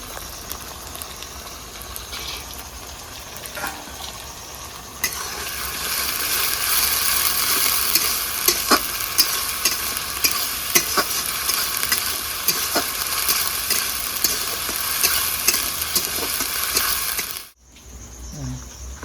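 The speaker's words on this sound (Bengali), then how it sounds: "2-3 মিনিট ভালো করে নেড়ে চেড়ে নিয়েছি। আদা রসুনের কাঁচা গন্ধ চলে গেছে।" Ginger garlic paste with green chilli frying in a pan, giving a continuous bright sizzle that grows louder midway, with repeated scraping strokes of stirring, then cutting off abruptly near the end.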